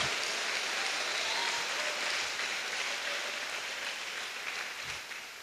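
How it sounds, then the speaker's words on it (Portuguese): Church congregation applauding and shouting during a Brazilian communion service, a broad roar of clapping and voices heard somewhat distant and muffled, holding steady before slowly easing off. "dê uma salva de palmas e um brado de vitória bem forte para o Senhor Jesus"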